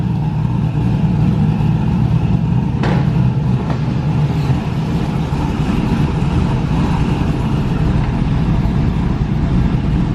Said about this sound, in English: So very nice and smooth idle.